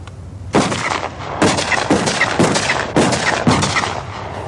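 Electrically fired explosive charges detonate in a 1975 demonstration of Nonel shock tube detonators, a series of about five loud, sharp blasts spaced roughly a second apart, each ringing out into a sustained rumbling wash with no pauses of quiet between.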